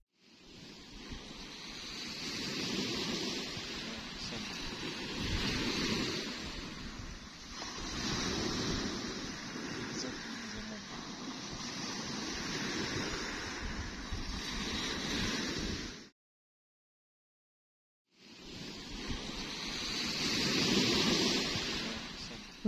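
Sea waves wash onto the Red Sea shore in a breeze, a steady rushing surf swelling and easing in long surges, broken by a brief silent gap before the waves return.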